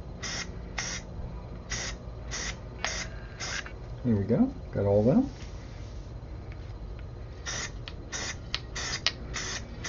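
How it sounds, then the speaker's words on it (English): Short hissing bursts from a spray primer can coat miniature French line infantry figures, about a dozen quick puffs in two clusters, close by, with someone speaking briefly between them. "By raising the figures, it pretty much artificially makes me want to spray up towards the figure."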